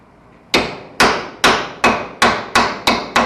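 Soft mallet hammering sheet metal into shape while fabricating floor framing: eight sharp, evenly spaced blows ringing close and loud, each fading quickly before the next.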